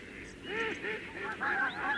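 Ducks and geese honk and quack in a quick, close flurry of overlapping calls, used as a sound effect in a 1991 children's story recording.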